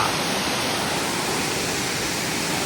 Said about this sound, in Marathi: हा आहे सोमतीर्थ धबधबा.